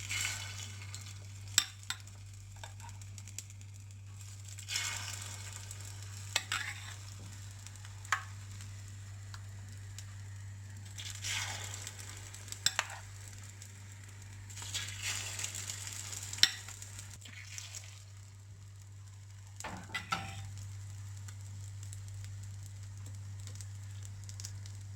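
Food frying in hot oil in a pan on a home stove, a faint steady sizzle with occasional soft crackles and brief scraping stirs of a utensil.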